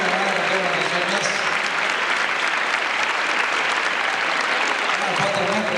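Sustained applause from a concert audience at a choral festival, dense and steady clapping filling the hall throughout, with faint voices mixed underneath.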